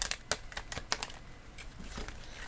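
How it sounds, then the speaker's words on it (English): Quick, papery flicks and soft crinkling taps of tarot cards being shuffled up close, a few sharp bursts at first, then softer rustling. "Final shuffle."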